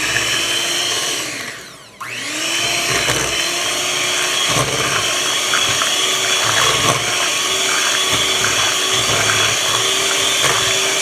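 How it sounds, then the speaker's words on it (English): An electric blender whirs loudly and steadily as it mixes sweet potato pie filling with cinnamon. The motor dips briefly and winds back up, then holds a constant, close, high-pitched churning whine. "now we're going to get the blending again."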